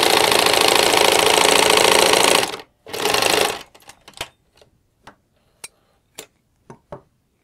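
Sewing machine stitching a 2 cm side seam on a summer dress, running loud and steady for over two seconds, then a short second burst, followed by sparse clicks and taps as it stops.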